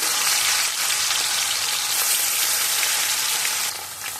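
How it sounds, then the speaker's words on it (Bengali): Steady, dense sizzling of rohu fish pieces frying in hot mustard oil, close and fairly loud, continuous throughout with a slight drop near the end. "তেল গরম হলে মাছের পিস দিয়ে দেব"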